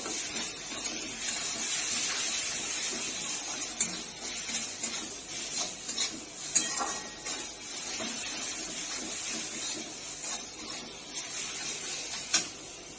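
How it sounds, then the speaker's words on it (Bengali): Spice paste sautéing in a pan makes a continuous bright hiss and sizzle for several seconds, with scattered pops and occasional stirring clicks and scrapes. "মশলাটা খুব ভালো করে কষিয়ে নেব।"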